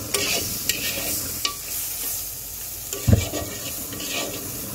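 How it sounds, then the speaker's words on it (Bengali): A spice mixture with salt sizzles softly in a pan over low heat while a spoon stirs and scrapes it at irregular moments, with one heavier knock near the end. "এইবার আমি সব কিছু একসাথে মিক্স করে দেওয়ার পরে একটু সময় নিয়ে কম আঁচে এটাকে একটু ভাজা ভাজা করতে হবে।"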